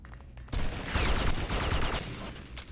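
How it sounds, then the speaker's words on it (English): A gunfire exchange in the video game Red Faction 2 starts abruptly after a quiet moment. Loud, dense shots overlap into a continuous crackling barrage. "I'm getting shot at and shooting back."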